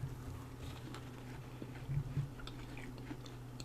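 Crunchy Earl Grey lavender scones are chewed close to the microphone, with quiet repeated bites and soft crunches in a short steady rhythm and no talking.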